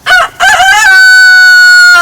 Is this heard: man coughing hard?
no